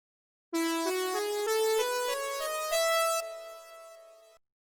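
A Korg keyboard synth with portamento switched off plays a rising run of bright, buzzy notes that step cleanly in pitch with no glide, ending on a held tone that fades out, solo and clear.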